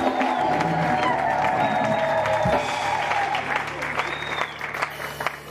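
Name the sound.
church audience applauding and cheering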